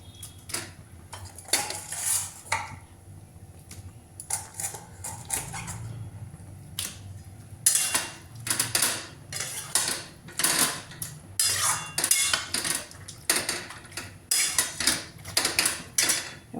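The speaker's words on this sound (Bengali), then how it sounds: "মটনটা দিয়ে আমি কষাই" Mutton being cooked down with spices in a pot, heard as repeated close metallic clatters and scrapes of a spoon stirring against the pot in irregular bursts, with quieter gaps between.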